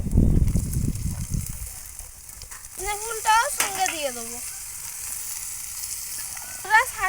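Potatoes and young lentils added to onions already frying in a pan, a loud sizzling burst at first that settles into a quieter steady crackle, with squeaky whistle-like tones and someone speaking over it.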